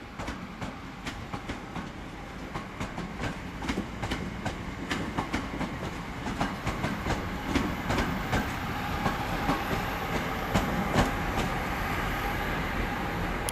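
A Northern electric multiple unit, class 323, arriving as a terminating service at Manchester Piccadilly, with steady rhythmic clickety-clack of wheels over rail joints and a continuous rolling rumble, loud and close, no talk.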